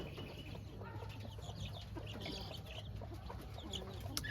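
Young chickens cluck and chirp softly in a backyard flock, scattered faint calls over a quiet, low background hum.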